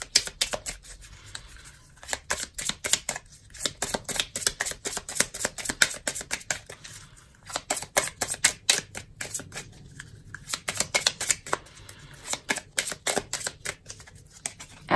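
Tarot cards being shuffled by hand make rapid, crisp riffling clicks in repeated bursts, close and clear, with brief pauses between rounds of shuffling and no talking over them.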